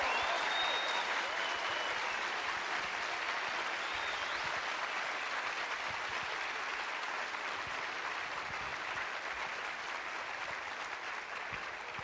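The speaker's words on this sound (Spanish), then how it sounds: "a JJ Benítez, de quien yo sé que ustedes quieren aplaudir" Sustained applause from a large audience welcoming an author at the Bogotá book fair, FILBO 2022, a steady dense wash of clapping that fills the room throughout and tapers only slightly toward the end.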